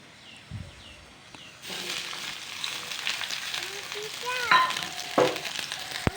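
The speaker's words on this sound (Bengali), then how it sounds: "এবার পেঁয়াজগুলিকে ভালো করে লাল লাল করে ফ্রাই করে নেব" Chopped onions fry in hot oil for an aloo gobi dish, with a soft hiss at first that swells into a louder, steady sizzle. A few scraping stirs cut through, close up, and no one speaks.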